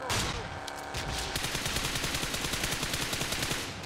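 Rapid automatic gunfire in PUBG Mobile, a dense run of sharp evenly spaced shots firing continuously at close range after a few scattered opening shots.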